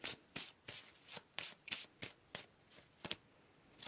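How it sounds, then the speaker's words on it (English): A tarot deck being shuffled, a run of about a dozen crisp riffling bursts in a steady rhythm, close and clear with no talking. "Let's go ahead and pull a couple more cards."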